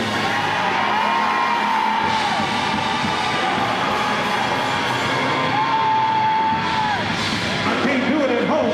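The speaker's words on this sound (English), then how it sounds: "But tonight, open up your mouth and just let out a good scream." A church revival congregation lets out sustained screams, whoops and yells together, a loud, dense crowd roar filling the room with rising and falling cries.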